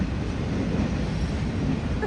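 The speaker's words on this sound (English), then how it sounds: "That train is moving." A train passes near an RV parked overnight at a casino lot in Tennessee, producing a loud, steady rumbling roar of rolling rail cars throughout.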